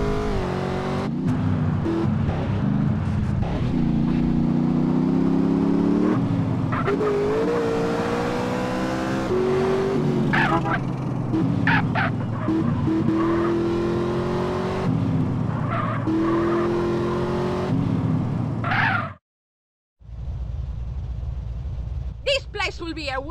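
A car is driven fast in GTA San Andreas, with a loud engine that rises and falls as it revs, repeated tire squeals and skids, and character dialogue heard above it. Near the end the sound drops out for a moment.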